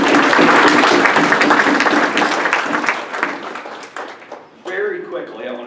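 An audience at a business succession event gives the speakers a round of applause, loud and close, tapering off before a speaking voice takes over near the end.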